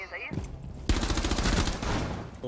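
Rapid gunfire in Rainbow Six Siege, a dense, loud burst of automatic shots that starts about a third of the way in and keeps hammering almost to the end.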